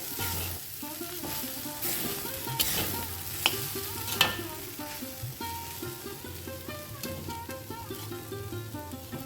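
Sago pearls are stirred and fried in a little oil over a low flame, producing a soft, continuous sizzle with scraping stir strokes and a few brief clinks, while faint tonal music plays underneath.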